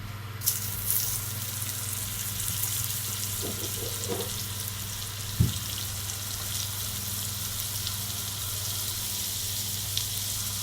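A spoonful of butter melting in a pot on the stove over medium heat, a steady, even sizzle and hiss with a low hum, a couple of brief clinks breaking through.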